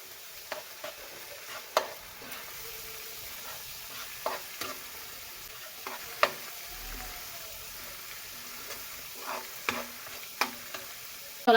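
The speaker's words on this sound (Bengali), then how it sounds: "এখন আমি সবগুলো উপকরণ একসাথে ভালোভাবে মিশিয়ে ভেজে নিব।" Turmeric, chili powder and cumin powder being stirred and fried together in a pan, a faint low sizzle with scattered sharp scrapes and clicks of the spoon at irregular intervals, close and quiet with no talking.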